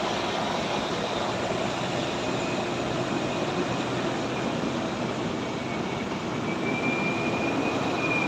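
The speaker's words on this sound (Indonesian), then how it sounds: "Bus." A bus rumbles steadily past on the Sitinjau Lauik mountain road, close by, with a broad engine roar and road noise holding loud throughout.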